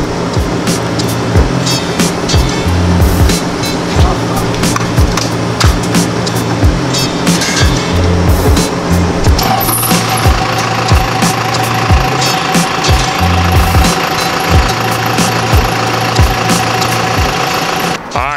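A truck engine idles steadily with a rattly rumble. Partway through, a steady whir joins in and continues as the air bag suspension inflates under a loaded bed.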